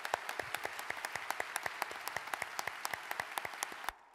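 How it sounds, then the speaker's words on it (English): A concert audience at a university gives a round of applause for a Navy vocal ensemble, with sharp, distinct individual claps standing out over the sound, fading out abruptly near the end. "So let's give them a round of applause."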